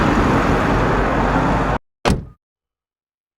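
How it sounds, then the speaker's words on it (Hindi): A merchant's large vehicle runs with a loud, steady engine rumble that abruptly stops, followed after a brief silence by a single solid door thunk, then quiet. "थका हारा व्यापारी अपनी बड़ी सी गाड़ी में लौटता है।"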